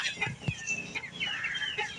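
Chickens clucking in short, overlapping calls, fairly close, with a busy coop background and no talking.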